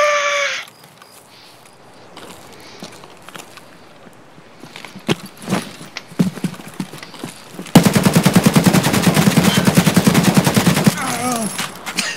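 Gunfire in the Escape from Tarkov video game: after a stretch of scattered sharp shots, a long, loud sustained burst of rapid automatic fire rattles on continuously to the end.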